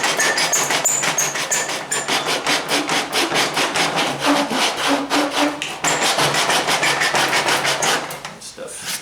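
Sandpaper scrubs back and forth on a coupler on a 1977 Camaro Z28 engine bay, a steady run of quick rasping strokes, close and loud, continuing for several seconds.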